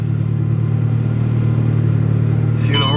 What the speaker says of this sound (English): A few revs.